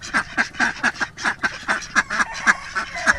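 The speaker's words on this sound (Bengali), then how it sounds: "চলো আমরা হাঁস দেখো, প্যাক প্যাক প্যাক প্যাক দেখো।" Ducks quack in a steady run of about a dozen nasal calls, close and fairly loud, with several birds overlapping in quick succession.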